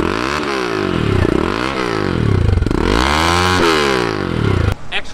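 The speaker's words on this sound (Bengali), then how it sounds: "এটার সাউন্ড পুরো রেসিং বাইকের মতো নর্মালি।" A Loncin GP 165 motorcycle with a 165 cc engine, its exhaust loud and close as it revs repeatedly in rising and falling sweeps, then cuts off near the end.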